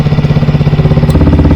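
A Yamaha WR 155 motorcycle idles with a 3Tech Ronin Musashi exhaust set to street mode. It gives a loud, steady, close low throb with even pulsing and a slightly bassy tone.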